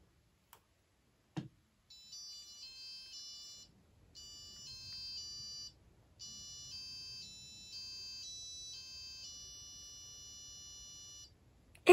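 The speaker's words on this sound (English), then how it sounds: "Not the microphone, the buzzer." A Wio Terminal's built-in buzzer, driven by CircuitPython code, gives a sharp click and then plays three bursts of steady electronic tones, the later ones stepping through pitches. Low hum runs underneath and there is no talk.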